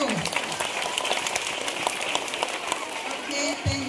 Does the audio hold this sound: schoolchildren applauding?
yes